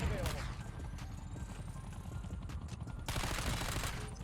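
Automatic LC-10 submachine gun fire in the game Black Ops 6, repeated quick bursts of shots at steady volume with a louder burst near the end.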